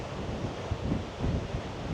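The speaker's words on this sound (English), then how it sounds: "Right, back to the waves." Ocean waves wash against the Cornish coast below Godrevy Lighthouse, giving a steady, rushing surf roar mixed with wind buffeting the microphone, with two soft surges in the middle.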